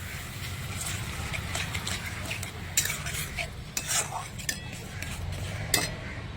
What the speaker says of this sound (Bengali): এবার মশলাটা খুব ভালো করে আমি কষিয়ে নেব